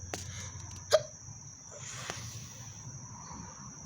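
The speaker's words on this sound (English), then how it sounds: "cause got some hiccups or something." A single sharp hiccup pops out near the start, faint and close, over a quiet room hum, followed by a softer breathy sound a second later.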